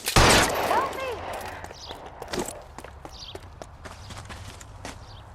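Several sharp gunshots in the video game L.A. Noire, one loud blast up close followed by scattered lighter cracks and footsteps, with a low background hum.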